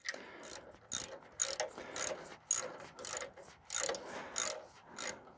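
A ratchet tightens a bolt in rhythmic bursts of quick clicking strokes, close and fairly quiet, with short pauses between each pull of the handle.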